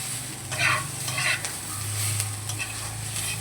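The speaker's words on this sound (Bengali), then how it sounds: "পেঁয়াজটাকে দেখো বারে বারে নেড়ে নেড়ে লাল লাল করে নিয়েছি" Onions frying in a pan with very little oil, stirred again and again, giving a close, constant sizzle with repeated scraping strokes of the spatula.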